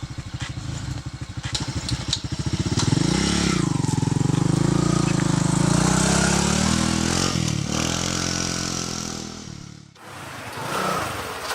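A motorcycle engine runs close by, starting with a sputtering idle and then climbing into a steady, loud drone. The drone wavers in pitch for several seconds and drops off sharply near the end. People talk over it.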